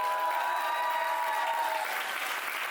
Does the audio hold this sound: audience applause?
yes